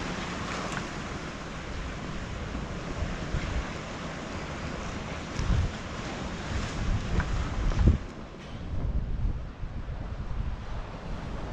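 Sea waves at Sant Elm on Mallorca, a constant roar of surf and wind buffeting the microphone, with heavier crashing surges around the middle as a bigger wave breaks nearby.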